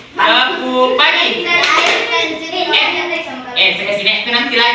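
Children clap in a 'tepuk pagi' classroom clapping chant, with rhythmic hand claps mixed in with loud voices chanting and talking close by.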